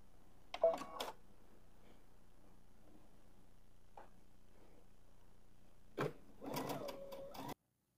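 A domestic sewing machine stitches a long fabric piece along a guide, running in short bursts: a brief whir near the start, a tiny tick midway, then a longer, steadier run near the end, all fairly quiet.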